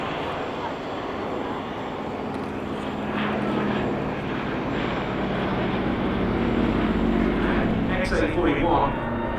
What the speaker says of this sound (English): Of course, being a relatively lumbering biplane, it was pretty much obsolete by the time war broke out.